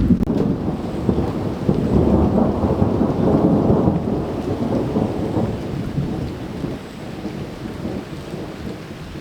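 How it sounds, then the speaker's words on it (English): Thunder rolls in a low, rumbling swell during a tropical summer rain shower in Ohio, loud and broad at first and then easing, with a steady hiss of rain and drops underneath and no voices. "Starting to get a few raindrops."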